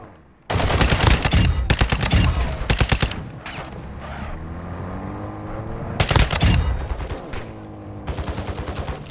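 Call of Duty gunfire in a hostage-rescue mission comes as heavy automatic bursts, loud and close, then pauses briefly before more rapid shots resume.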